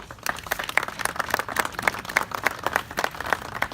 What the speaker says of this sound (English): Would you receive him with applause?